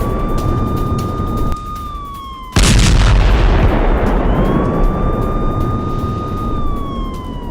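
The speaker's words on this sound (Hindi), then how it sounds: "ताबड़तोड़ धमाकों की आवाजें सुनी गई" Sirens wail in northern Gaza, then a sudden loud blast cuts in, leaving a heavy roar and rumble before the rising and falling siren tone returns over the lingering noise.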